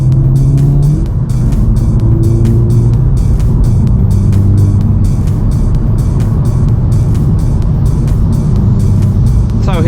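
A VW Golf GTI MK7.5 with a 315 hp engine is driven hard, its engine droning loudly and steadily from inside the cabin, with gear-shift dips and rising revs throughout.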